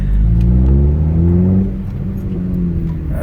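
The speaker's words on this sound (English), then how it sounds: "Just something about these K-series engines, man." A 9th-generation Honda Civic with a K-series engine runs on the road after an oil change, its steady drone and rising rev close and loud, easing off midway.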